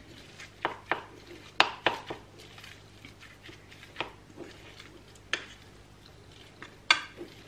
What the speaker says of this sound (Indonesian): Aduk.